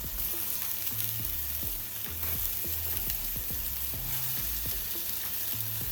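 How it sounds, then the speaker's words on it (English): Meatballs browning in a hot skillet, a steady loud sizzle and crackle of frying fat throughout, with occasional soft knocks of the pan and utensils, no voices. "what I'm going to do now is add my meatballs to the skillet. I'm just going to kind of brown them"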